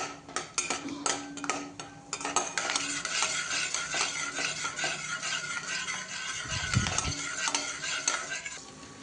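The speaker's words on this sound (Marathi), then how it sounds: "छान शेंगदाणे आपण तळून घेऊया" Half a cup of peanuts frying in a pan over a low gas flame, a utensil steadily stirring and scraping against the metal with a soft sizzle underneath, close and continuous.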